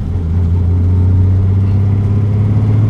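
A tuned car with an engine fault that will not idle properly runs in second gear, giving a loud, steady, low engine drone up close with no break throughout.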